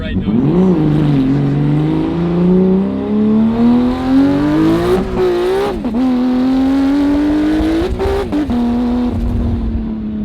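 Big-turbo 1300 hp BMW E46 M3 with an S54 engine revs hard on the move, its loud engine note sweeping up and down through several gear changes with brief dips between pulls.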